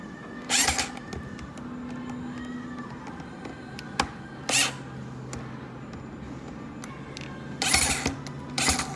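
Small screws on an Andis Pulse clipper blade drive assembly are tightened, giving sparse ratcheting clicks and short scraping bursts against faint background noise, with several distinct sharp taps spread across the stretch.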